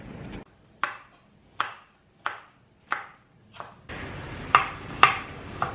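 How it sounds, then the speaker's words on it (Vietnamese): Garlic being sliced with a knife on a cutting board, a series of sharp, evenly spaced chopping taps, then a few louder cuts over a faint background hum. "Và tỏi này ta sẽ sắc lát, và ớt thì cũng sẽ sắc lát."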